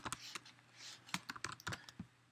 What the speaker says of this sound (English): So you can see what keys I'm pressing.